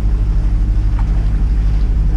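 Steady low engine drone with a rhythmic throb from a sailboat motoring into headwind and head sea, continuous and fairly loud, with faint wind and water noise above it.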